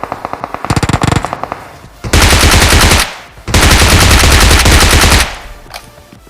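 Automatic gunfire in the video game PUBG: a short burst of rapid shots, then two long sustained loud volleys separated by a brief gap, sharp and close with no talk over them.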